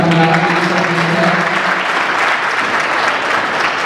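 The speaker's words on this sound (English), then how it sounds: "Give yourself a hand clap." Audience applause at an evening lecture held at a church life center in Richmond, Virginia: a dense, steady wash of clapping from a large crowd throughout, with faint voices mixed in at the start.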